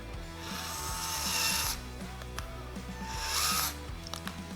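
A Mechanic iDrive electric screwdriver runs at full speed, giving a near, fairly quiet high-pitched motor whine with two louder bursts separated by brief pauses and faint mechanical rattles.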